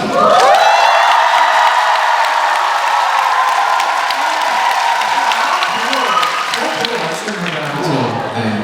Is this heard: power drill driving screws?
no